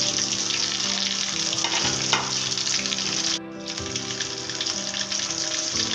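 Potato kebabs with an egg coating fry in a pan, a loud continuous close sizzle with bubbling oil and a brief dip midway as the pan is disturbed, no talking.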